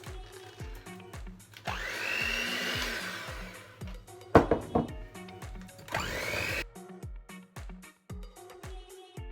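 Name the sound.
mixing white chocolate cookie dough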